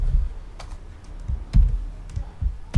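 Computer keyboard keys clatter in a quick, irregular run of separate taps, close and fairly loud, with a few sharper strikes between lighter presses while coding in Python.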